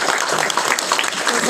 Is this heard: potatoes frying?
no